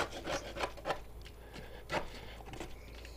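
Dirt is scraped from the undercarriage of a 2001 Toyota Toyoace light truck in a series of short, faint rasping strokes at an uneven rhythm.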